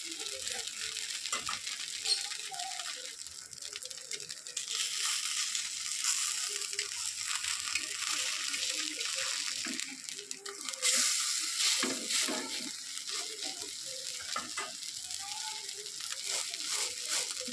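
Chira and sabudana tiffin frying in a pan, a continuous close sizzle with occasional crackling and scraping as pieces are turned, a faint voice showing up at moments.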